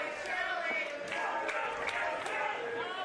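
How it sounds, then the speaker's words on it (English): Fans at a West Coast Pro wrestling show cheer loudly and continuously for Alex Shelley, with scattered sharp claps and whoops rising out of the sustained crowd noise. "You hear the crowd firmly behind Alex Shelley."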